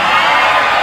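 A crowd of sermon listeners lets out a sudden loud collective shout, a dense burst of mixed voices that sustains briefly with no clear words.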